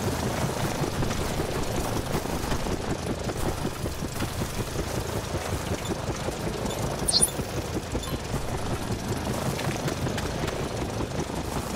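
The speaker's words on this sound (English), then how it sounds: "Why has that helicopter just suddenly stopped making noise every now and again?" Helicopter in a dinosaur-hunting video game gives a steady, dense rotor and engine drone throughout, with one brief sharp burst partway through; the helicopter's engine is stalling at times.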